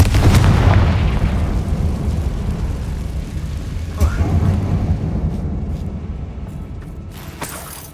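A Confringo fire spell explodes in Hogwarts Legacy, a loud deep boom with a long rumbling decay, followed by a smaller burst and fading crackles.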